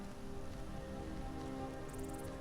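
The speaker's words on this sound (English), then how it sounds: "Listen to the rain with Lydia." Rain patters steadily in the game Skyrim, a soft continuous hiss of drops with a faint tonal layer underneath, even and unbroken, with no voices.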